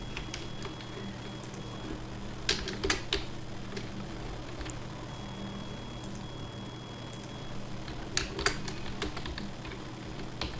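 Fingers typing on a computer keyboard in irregular bursts of quiet clicks, with a few louder clusters of keystrokes and no talk.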